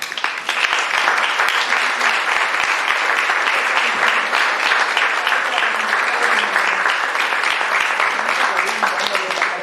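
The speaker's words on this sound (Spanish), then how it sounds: "Yo quiero que la aplaudamos muy fuerte." A crowd at a neuroscience and neurodevelopment lecture claps loudly and steadily for several seconds, a dense round of applause with voices mixed in.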